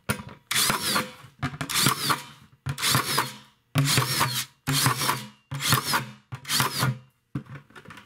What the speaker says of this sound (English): and I'm just going to drill some holes.